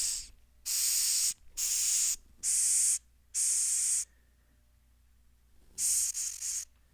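A hissing bug gives repeated loud, airy hisses, four bursts in quick succession, then a pause and another pair of shorter hisses, close up with quiet between them.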